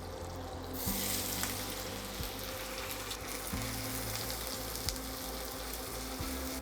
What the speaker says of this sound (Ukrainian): Вкидаю туди цибулю і її смажу.